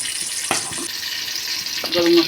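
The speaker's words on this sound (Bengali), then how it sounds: "পেঁয়াজটাকে আমরা হালকা ভেজে নিচ্ছি।" Chopped onion fries in oil with a bay leaf for chicken biryani, a steady close sizzle broken by a few clinks and stirring knocks.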